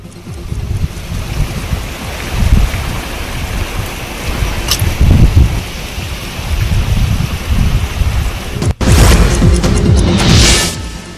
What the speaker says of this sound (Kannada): ಮಳೆಯ ಅಬ್ಬರ ಮುಂದುವರೆದಿದೆ.